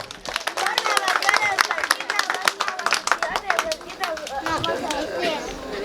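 A group claps in quick, uneven bursts of sharp slaps, with voices talking and calling out over the clapping.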